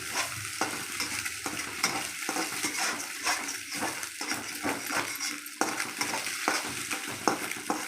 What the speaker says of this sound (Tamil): முட்டை அப்படியே வதக்கி எடுத்துக்கிறோம், பச்சை வாடை போக வேண்டி வதக்கி எடுத்துக்கிறோம்